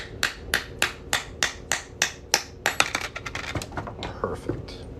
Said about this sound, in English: I'm going to knock this off of this punch here with our hammer.